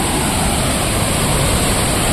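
Water pours steadily over the rocks at Ripple Waterfalls in Munnar, a constant loud broadband rush heard close up with no voices.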